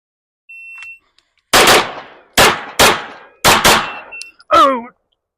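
Five sharp gunshots at close range during a pistol drill on a 7-yard target, fired in an irregular string with quick pairs, each a loud crack with a short decaying tail, plus faint beeps from a shot timer.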